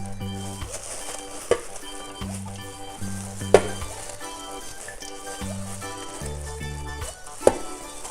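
Vietnamese spring rolls frying in oil in a pot, a steady close sizzle running throughout, with a few sharp clinks of utensils against the pot and background music playing underneath.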